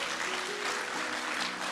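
A church congregation applauds in a dense, steady wave of clapping that stays loud and even throughout, with a faint voice underneath.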